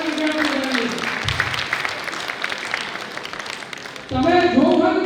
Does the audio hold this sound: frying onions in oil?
no